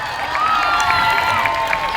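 Crowd at a community anniversary parade cheers and applauds a band, a steady wash of clapping and shouting voices filling the whole stretch at moderate loudness.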